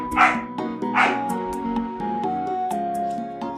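A dog gives two quick barks near the start, over steady background music that continues throughout.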